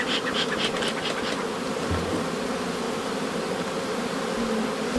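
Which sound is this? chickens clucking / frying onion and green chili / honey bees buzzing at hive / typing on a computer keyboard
honey bees buzzing at hive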